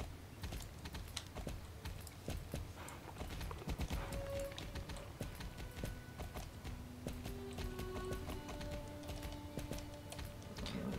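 Horse hooves clip-clop at a steady trot in a Star Stable Online video game, a rapid, even rhythm of soft hoof beats mixed with keyboard-like clicks and faint game tones.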